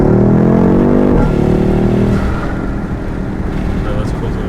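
A BMW F96 X6M with Eventuri intakes revs loud and close, its engine note sweeping downward on a downshift before easing into a lower rumble.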